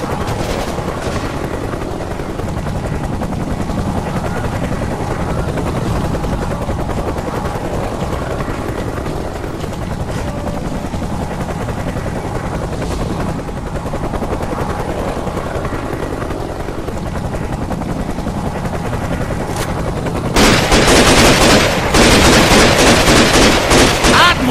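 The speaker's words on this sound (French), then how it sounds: "hélicoptère ennemi en approche." In the video game Raven Squad: Operation Hidden Dagger, a steady thudding enemy helicopter rotor drones throughout, loud and close, and a burst of heavy rapid gunfire erupts near the end.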